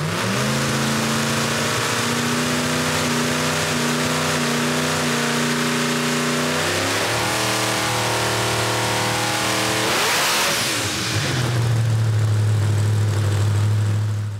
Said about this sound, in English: And it's so freaking loud, it shut the TV off.